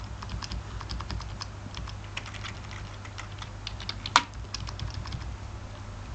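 Quick, fairly soft keystrokes on a computer keyboard while text is entered in the Sublime Text editor, an uneven pattering rhythm with one louder key clack partway through, over a low steady background hum.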